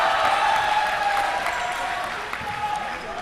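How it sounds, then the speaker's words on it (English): Basketball crowd in an arena applauding a missed shot, steady clapping and murmur at moderate distance lasting throughout, with a commentator talking over it. "As the crowd is applauding a missed shot there by Jiajun of the technical foul"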